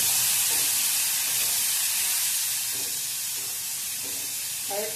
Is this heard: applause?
no